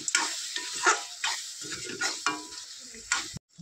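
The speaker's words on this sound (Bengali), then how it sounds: "আদা একটু কষিয়ে নেব নাড়াচাড়া করে।" Ginger is stir-fried with spices in a pan for a goat meat and potato curry. Stirring scrapes repeat over a steady close sizzle, ending in a sudden brief silence.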